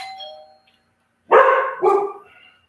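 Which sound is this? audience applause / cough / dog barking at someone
dog barking at someone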